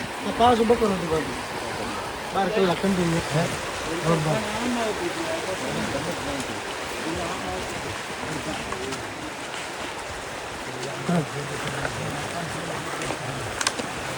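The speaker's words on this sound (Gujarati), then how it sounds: "ખળખળ ખળખળ મસ્ત ઝરણાનો અવાજ આવે છે હવે" A stream babbles steadily in Scotland, a continuous gurgling wash of water heard beneath someone talking throughout.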